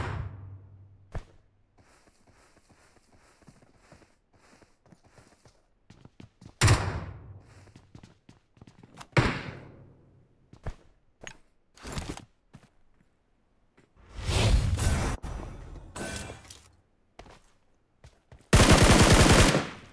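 Gunfire in PUBG Mobile, played on an iPad 9 in solo ranked mode: scattered single shots and short bursts, with a long, loud automatic burst near the end and quieter footstep-like sounds in between. No talking.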